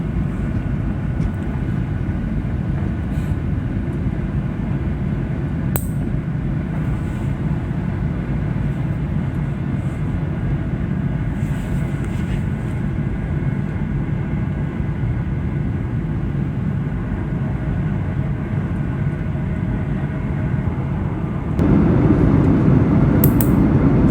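Inside the cabin of a Garuda airliner in flight from Batam to Semarang, a steady low engine and air roar drones on with faint clicks, and the rumble grows louder near the end.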